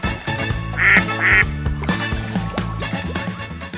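A green toy duck gives two short, bright quacks in quick succession over a busy, steady background of toy and room noise.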